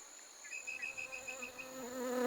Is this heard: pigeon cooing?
no